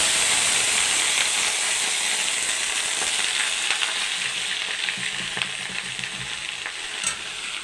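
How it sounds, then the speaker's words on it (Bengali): Taro leaves hit hot oil in a wok and fry with a loud, continuous hiss, broken by scattered scraping stirs, the sizzle easing slightly toward the end. "এবারে ওই তেলের ভিতরে ওই কড়াইয়ে কচু শাক দিয়ে দেব।"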